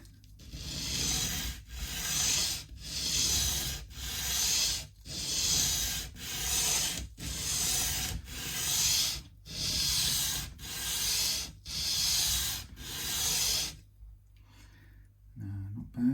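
Hand sanding on part of an Eastwood Tenor 2P baritone guitar, sanded flat: about a dozen steady, close rasping back-and-forth strokes with brief pauses between them, then a near-silent stretch at the end.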